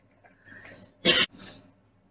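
A single short, dry cough stands out between faint breathy sounds, close and fairly loud.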